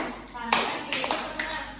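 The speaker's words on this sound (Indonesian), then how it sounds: "Kalau misalkan ada aba-aba tepuk 3" Three sharp hand claps ring out as a rhythm cue in a teaching session, evenly spaced and close, over a faint background murmur.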